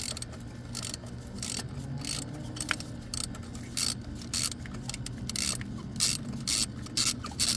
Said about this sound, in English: Now insert your socket with extension and loosen the spark plug.